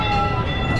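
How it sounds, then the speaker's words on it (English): A gas-powered handmade replica of an 1863 Central Pacific steam engine train runs at the Kemah Boardwalk entertainment complex, giving a steady, loud rumble with sustained tonal hum throughout, with no voices. "a gas-powered handmade replica of an 1863 Central Pacific steam engine train"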